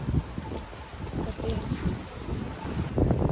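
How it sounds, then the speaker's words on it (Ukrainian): Gusty wind buffets the microphone outdoors in cold, very windy weather in Poland, a low rumbling roar rising and falling throughout and surging louder near the end. "Дуже вітряна погода і холодно."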